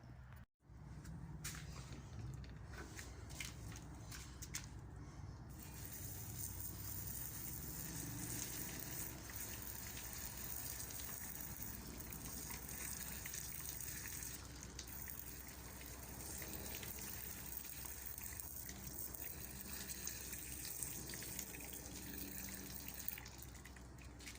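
Water runs and gushes steadily for a long stretch, a continuous splashing rinse of removed motorcycle brake parts, with small clatters near the start.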